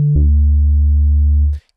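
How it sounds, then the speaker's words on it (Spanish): A single sustained reggaeton bass synth note built in FL Studio, deep and steady with a sharp attack, holding for over a second before cutting off abruptly. "les voy a enseñar cómo hacer un bajo de reggaetón"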